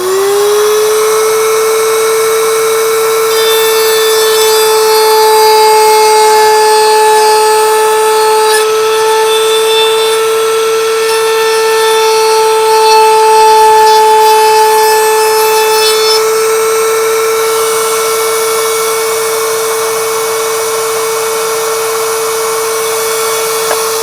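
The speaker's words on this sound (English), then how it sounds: "now I've lowered the cutter back down to about 1/8 of an inch, 1/16 of an inch in height, and we're going to follow this bottom flange." A pin router table cutter routes along the bottom flange of a workpiece on a copier jig, with a loud, steady high-pitched whine sustained throughout and no talk.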